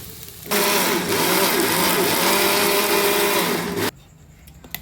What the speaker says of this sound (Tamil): ஆறுனதுக்கப்புறம் மிக்ஸி ஜாரில் போட்டு அரைச்சி எடுத்துக்குவோம்